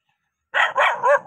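A dog barks three times in quick succession after a moment of silence, close and loud, with no voices.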